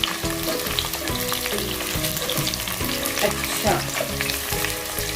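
Chicken pieces for pulao frying in a pan until golden brown, a steady close sizzle with stirring and scraping throughout, under soft background music and a brief spoken word.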